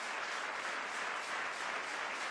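Stadium crowd applauding at Hayward Field during a men's shot put Diamond League meet, a faint, distant, steady wash of clapping throughout.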